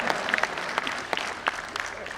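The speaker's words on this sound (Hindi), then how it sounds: "ये वही ताली बजा रहे जो तैयारी बैठी।" Audience clapping at a Hindi comedy poetry gathering (hasya kavi sammelan), scattered hand claps with distinct sharp hits over a bed of crowd noise and voices.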